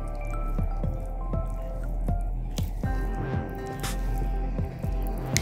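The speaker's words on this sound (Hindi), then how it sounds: "अब बैटर को मिक्स कर लेंगे।" Banana chocolate chip cake batter is folded by hand, giving soft wet squelches and drips that repeat in a steady rhythm, close and fairly loud, over a low background hum.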